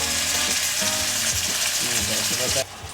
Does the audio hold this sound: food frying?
yes